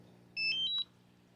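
A DJI Mavic Mini drone controller gives a short, bright electronic beep sequence as it powers on, two or three clear stepped tones lasting about half a second, close and alone against a quiet background.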